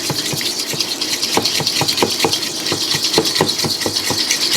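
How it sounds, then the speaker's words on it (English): Four separated egg yolks lightly whisked together in a bowl for no-churn vanilla ice cream, giving a steady rhythmic run of quick, close clicking strokes over a soft wet swish. "So we want to lightly whisk those together."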